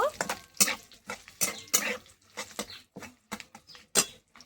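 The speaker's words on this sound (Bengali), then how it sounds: "ফোড়নটা একটু নেড়ে ছেড়ে দেব" Panch phoron tempering, with a torn bay leaf and three slit green chillies, is stirred in hot oil. Sharp crackling spatters come in quick irregular bursts close by, with a few light utensil scrapes.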